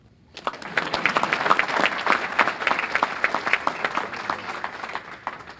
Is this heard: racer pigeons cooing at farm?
no